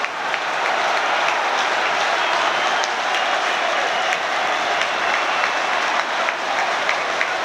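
Football crowd at a Brighton v Crystal Palace match applauding a Brighton goal by Florin Andone, a dense, sustained roar of clapping and cheering from a large stadium audience, steady and loud throughout.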